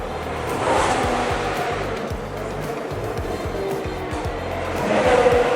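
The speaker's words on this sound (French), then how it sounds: "Et il passe juste là les voitures là." Formula 1 race cars at the Monaco Grand Prix roar past, a continuous loud engine wash with rising and falling passes and a louder surge near the end, heard from a distance amid crowd ambience.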